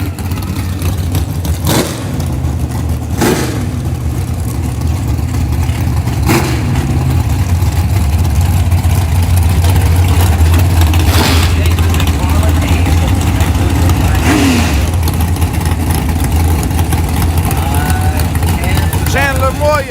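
Bracket racing cars at a raceway drag strip, with a loud steady engine drone and several sharp revving bursts running throughout, under constant close talking from a crowd.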